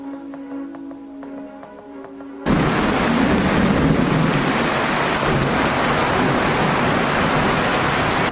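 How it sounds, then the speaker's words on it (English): Heavy rain pours during a late-August thunderstorm over a tent, a loud dense roar that bursts in suddenly and holds steady, with thunder rumbling low beneath the downpour. "Oh, you hear that thunder?"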